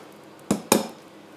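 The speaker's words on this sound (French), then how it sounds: "Que je casse, on fait attention à ne pas mettre de coquilles." Two sharp cracks about a fifth of a second apart as eggs are broken against the rim of a kitchen bowl for a pear clafoutis batter, close and crisp over a quiet room.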